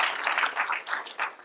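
An audience at an Indian-American business meet breaks into applause, a short close burst of many hands clapping in uneven ripples.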